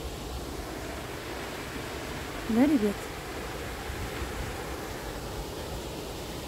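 Steady, even rush of flowing water fills the Belvedere park in Vienna on a warm autumn day, constant and close, with a short spoken question breaking in briefly midway.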